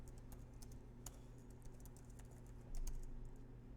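Keystrokes on a computer keyboard entering a web address, a run of light, irregular clicks close by over a faint steady hum, with a slightly louder burst of taps near the end.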